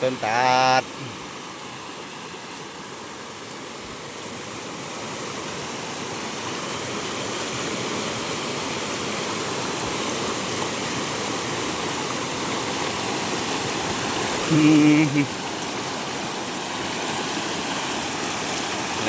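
Water pours down a waterfall in a steady, broad rushing roar that stays constant and fairly loud throughout, with brief voiced tones near the start and again around the fifteen-second mark.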